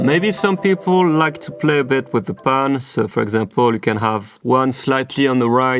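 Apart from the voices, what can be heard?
None of the usual background noises is heard.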